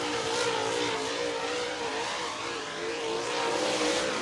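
A race car accelerating hard at Thunderhill Raceway in Summerville, Tennessee, its engine roaring loud and close in one continuous, slightly wavering pass with no voices over it.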